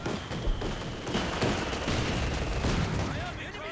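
Mortar and battlefield gunfire from a Company of Heroes 2 match, a dense, continuous clatter of shots and dull blasts rolling on throughout, with a voice talking faintly underneath.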